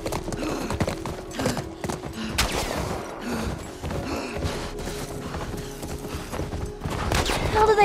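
Horse hooves gallop in the video game The Last of Us Part I, a rapid clip-clop mixed with gunfire, a whinny and shouting voices over a busy, loud action scene.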